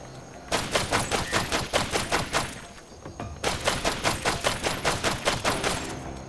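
Rapid automatic gunfire from the Killsquad video game, two sustained bursts of evenly spaced shots separated by a brief pause, loud and close with no talking.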